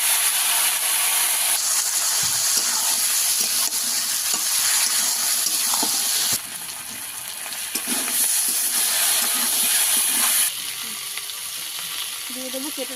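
Broadband sizzle and hiss from a hot pan of fish curry made with live mrigal fish, potato and taro, as a little water goes in, with scraping stirs; loud and steady, dipping briefly midway before rising again.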